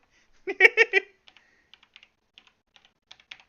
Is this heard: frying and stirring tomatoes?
no